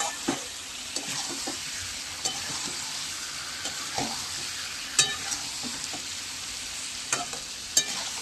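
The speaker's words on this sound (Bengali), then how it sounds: "দেখুন বন্ধুরা কষাচ্ছি।" Chicken curry sautéing in a pan, a steady broadband sizzle with scattered clicks and scrapes from stirring, close and moderately loud, no voices.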